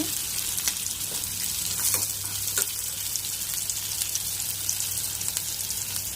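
Onions frying in a pan for biryani, giving a steady, close sizzle with occasional brief crackles and pops throughout, no voices over it.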